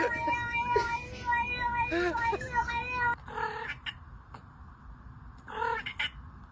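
A pet cat meows and yowls in drawn-out, wavering cries close by, mixed with a person's voice talking over much of it.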